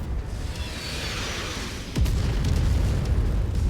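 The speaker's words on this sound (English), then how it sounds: "there's the enemy artillery" Enemy artillery shells exploding in MechWarrior 5, a rumbling barrage that swells into a heavier boom about halfway through, followed by continued rolling blasts and crackles.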